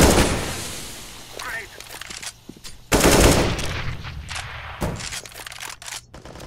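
Gunfire in the video game CS:GO comes as rapid bursts of shots and sharp cracks in irregular clusters, loud and close, with a player's voice talking in between.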